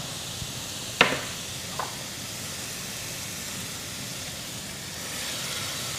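Garlic and aromatics for okra and saltfish cooking down in a pan, a steady soft sizzling hiss with a couple of faint clinks, no voices.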